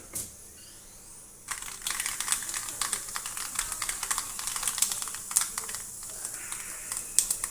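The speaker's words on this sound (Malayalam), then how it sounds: "കടുക് പൊട്ടി കഴിയുമ്പോഴേക്കും" Mustard seeds splutter in hot coconut oil, a sudden onset of dense, irregular crackling pops that carry on steadily and close up, with no talk.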